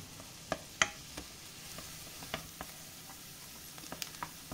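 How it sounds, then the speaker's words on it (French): Onions gently softening in olive oil in a saucepan, a quiet, soft sizzle with scattered light taps and clicks of a utensil against the pan, close and faint. "je vais faire revenir tout doucement mes oignons"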